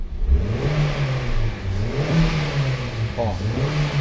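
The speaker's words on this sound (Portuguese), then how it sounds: "Ó, o carro tá acelerando" A Honda Fit engine, just repaired after a throttle position sensor voltage fault, revs up and down close by with a steady rising and falling hum, and a faint voice can be heard briefly.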